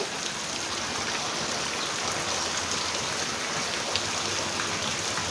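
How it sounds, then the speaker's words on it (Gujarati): Monsoon rainwater gushes from a pipe at a farm, a dense, constant watery roar with rain hissing all around, steady and fairly loud with no pauses or voices. "જો કેટલું પાણી આવે. જો ભૂંગળામાંથી વરસાદ હજી એટલો ને એટલો ચાલુ."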